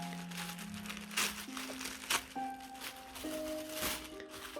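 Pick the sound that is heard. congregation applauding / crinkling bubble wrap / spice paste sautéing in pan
crinkling bubble wrap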